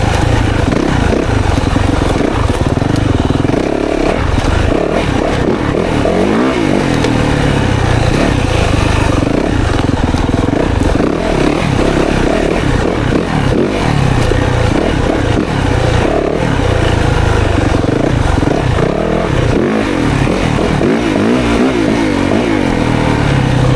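A 2024 Yamaha YZ 450FX dirt bike out on a woods ride, its engine droning and revving loud and steady throughout with a rough mid-range growl and no pauses.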